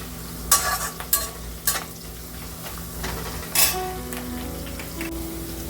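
Onions frying and being stirred in a pan while cooking Rayalaseema-style uggani, a steady close sizzle broken by a few sharp spoon scrapes against the pan.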